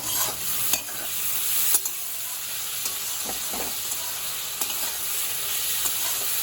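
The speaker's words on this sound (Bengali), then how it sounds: "এইরকম অবস্থায় একটু লবণ দিয়ে দেব আবার একটু নাড়িয়ে নেব" Chow mein stirred with a little salt in a hot frying pan makes a steady, close sizzle, with scattered scraping taps of the utensil against the pan and no voices.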